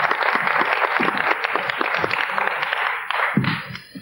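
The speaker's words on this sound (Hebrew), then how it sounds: "תנו לו מחיאות כפיים" Studio audience on a Hebrew game show applauding a contestant, dense steady clapping filling the room for several seconds before tapering slightly at the end.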